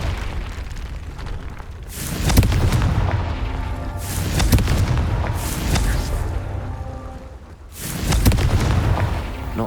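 Confringo blasting spells explode in Hogwarts Legacy, a fantasy video game: several loud, booming bursts land a couple of seconds apart, each with a sharp crack and a rumbling tail, with no voices over them.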